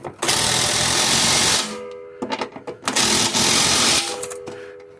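A power tool buzzes in long whirring bursts while tightening the skid shoe bolts on a Troy-Bilt 2410 snow blower, with a pause of rattling clatter between runs, close and loud.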